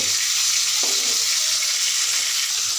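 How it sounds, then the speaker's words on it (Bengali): Roe-filled fish sizzles steadily in hot oil in a pan, a loud, dense, continuous crackle with a brief scrape as a piece is turned, and no talking. "মাছ আমি একটু একটা করে উল্টিয়ে দিব মাছের পেটে ডিম হয়ে গিয়েছে বেশি কড়া করে ভাজবো না"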